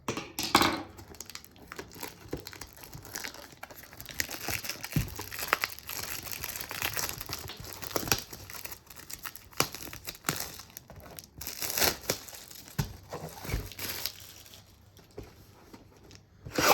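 Plastic shrink wrap is crinkled and torn off a Magic: The Gathering Modern Horizons 2 set booster box, with close, steady crackling and crunching that comes in uneven bursts and pauses and carries no speech.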